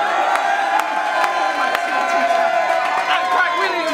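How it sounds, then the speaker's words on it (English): A rap battle crowd at a Don't Flop event on the Raise the Bar Tour roars steadily, loud cheering and whoops with scattered claps filling the room throughout. "Please make some noise for Cracker."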